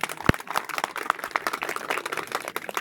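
An audience at a Republic Day gathering claps in a faint, scattered way, with separate hand claps spread unevenly across the short stretch and no talking.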